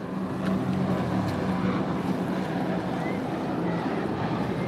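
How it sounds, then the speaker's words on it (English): Jet skis run on open water at Point Defiance, a steady droning engine hum mixed with wind buffeting the microphone, moderately distant and continuous throughout. "Jet skis, man."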